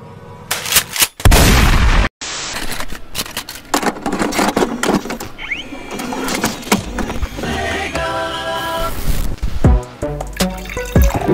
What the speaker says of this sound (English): I'm going to shotgun this beer live on camera.